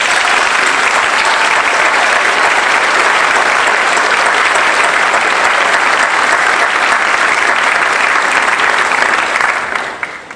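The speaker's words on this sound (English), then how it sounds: "Let's give them a big round of applause." A large crowd applauds a Central High School marching band headed for Pasadena in a loud, dense, unbroken burst of clapping that holds steady for several seconds, then fades at the end.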